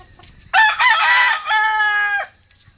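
A rooster crows nearby in one loud, full cock-a-doodle-doo, with a rising opening and a long, drawn-out final note that breaks off abruptly into quiet.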